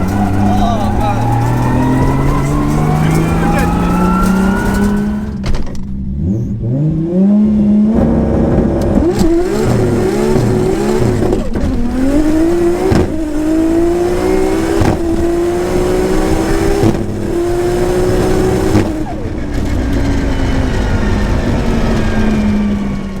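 A Nissan R32 GTR launches on a quarter-mile drag run, its engine revving hard through rising gears with a loud, close, continuous roar and brief dips at each shift, and a slight misfire near the end of the run.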